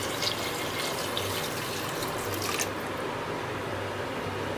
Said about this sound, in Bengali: আমি এবার মাংসটা প্রেসার কুকারে ঢেলে নিয়েছি। এর মধ্যে দিয়ে দিচ্ছি গরম জল।